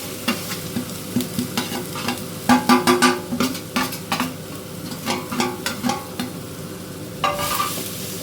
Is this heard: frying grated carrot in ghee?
yes